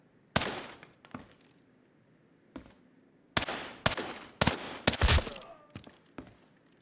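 Gunfire in the shooter game Arena Breakout Infinite: scattered loud shots, a few single cracks early, then a dense cluster of rapid bursts in the second half, with no talk.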